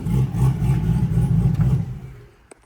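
Turbocharger on an LS-powered Camaro spinning down after the engine cuts, a steady engine-like drone that fades over about two seconds into near silence, ending with a faint click.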